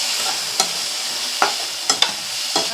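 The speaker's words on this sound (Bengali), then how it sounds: "সব মশলাগুলোকে একসঙ্গে আবারও কষিয়ে নেব।" Turmeric, chili, cumin and coriander powders sauté in a hot pan with a loud, continuous sizzle, while a spoon scrapes through them in several short strokes.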